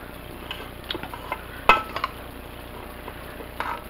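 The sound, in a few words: stirring rotini pasta salad with vinaigrette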